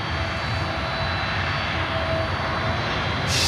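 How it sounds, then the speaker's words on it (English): A Boeing 767 cargo jet comes in to land on runway 8 at Miami airport, its engines giving a steady, loud broadband roar that holds evenly throughout, with no voices. "let's enjoy this cargo jet 767"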